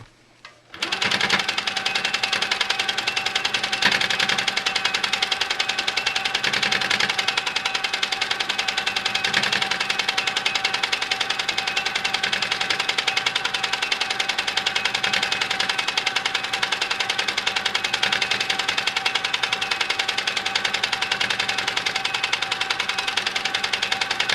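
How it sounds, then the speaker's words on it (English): A sewing machine stitches in the ditch on a quilted pillow sham with wool batting, starting after a brief pause and then running fast and continuously, loud and close, for over twenty seconds. "Some fake stitch in the ditch will take care of that, and I'll stitch my last piece."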